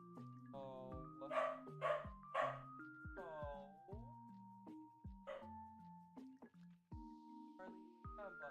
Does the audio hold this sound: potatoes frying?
no